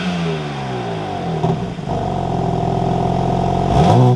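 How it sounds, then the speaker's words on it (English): BMW M4 Competition coupe (2021-2023) firing up from the cabin after a push-button start: the engine catches, revs loudly with a brief dip, then settles into a steady, close, rumbling idle that swells again near the end. "inside the M4 Competition, we can go ahead and press the button and fire it up"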